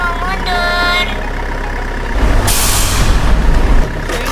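A police truck backs up to hook on its rear trailer, opening with a steady electronic tone, then a loud burst of air-brake hiss over a low engine rumble that cuts off abruptly.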